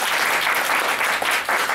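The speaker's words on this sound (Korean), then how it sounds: "뜨거운 박수로 환영해 주십시오" An audience at an international forum applauds to welcome a speaker, a brief, full burst of continuous clapping with no talk.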